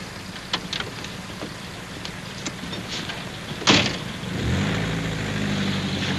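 A car door thuds shut amid a few light clicks, then a car engine starts and settles into a steady low rumble as it pulls away, with no talking.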